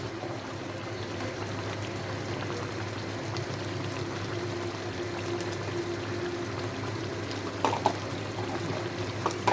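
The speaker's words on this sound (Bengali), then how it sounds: "অল্প একটু পানি দিব।" A little water poured into a pan of begun khashi, an eggplant curry, makes a steady, close gush and bubbling stream that runs unbroken at moderate loudness, with a few faint clinks near the end.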